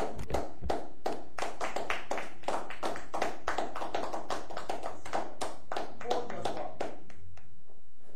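Congregation at a French-language church service clapping to acclaim Jesus, a dense run of rhythmic hand claps and taps sustained throughout, loud and close, thinning slightly near the end.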